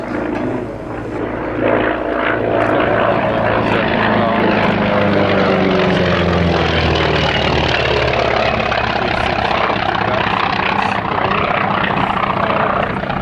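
A Grumman FM-2 Wildcat naval fighter's propeller engine roars loudly and steadily, a deep droning rumble with shifting tones as the aircraft passes close by.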